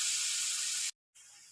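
Spices sizzling hard in a hot pan for a potato and raw banana curry, a loud steady hiss that cuts out briefly, then resumes a little quieter.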